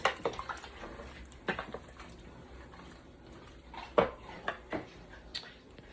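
A spoon stirring cut tomatoes in a roaster, giving soft scattered clinks and scrapes against the pan, with a few sharper knocks and quiet gaps between.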